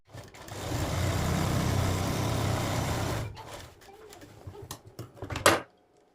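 A sewing machine runs steadily for about three seconds, stitching a line along a blouse strip, then stops and leaves a few soft handling clicks and taps up close.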